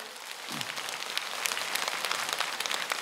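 An audience at a priest's happiness lecture breaks into sustained, dense applause that sounds like heavy rain, holding steady throughout.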